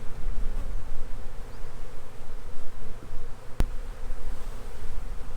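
Honey bees buzzing around an opened backyard hive during a spring inspection, a close, steady drone that swells and fades with passing insects, with one sharp click partway through and no talk.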